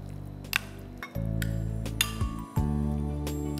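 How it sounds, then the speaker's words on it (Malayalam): Raw chicken goes into a bowl for marinating, with a few light clinks and taps of the bowl and utensils, close and sparse over a low steady background hum. "ഈ ബൗളിലേക്ക് നമുക്ക് ചിക്കൻ ഇട്ട് കൊടുക്കാം"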